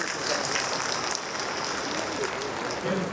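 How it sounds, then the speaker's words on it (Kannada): A seated audience at a public speech applauds loudly and steadily for about three seconds, a dense wash of clapping with no voice rising clearly above it. "ಜೋರಾಗಿ ಚಪ್ಪಾಳೆ ತಟ್ಟಿ."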